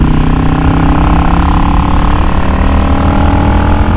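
A motorcycle engine with a K&N chrome-top air filter and re-jetted Mikuni carburetor idles steadily and loudly close by, a constant rumbling throb with no other sounds.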